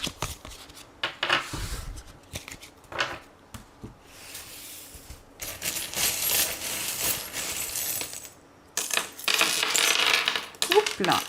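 Small fortune-telling charms cast and clattering onto a table during a French cartomancy reading, a run of light metallic clinks and scattering rattles in bursts, close and fairly loud with no talk.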